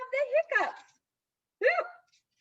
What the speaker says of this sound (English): I still have the hiccups.